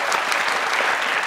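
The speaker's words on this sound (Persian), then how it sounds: "تشویقشان کنیم دوستا" An audience at a quiz show applauds the contestants, a loud, dense burst of clapping that stays close and even throughout the short moment, with no voices.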